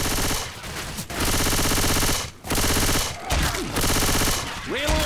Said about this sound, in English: I got all the machine guns.